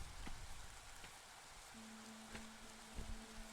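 Rain falling in the video game Against the Storm, a quiet, steady patter of drops with a faint tonal hum underneath and no talking.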